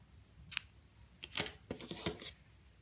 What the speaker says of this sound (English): you need to get your scissors. Cut yourself a long tail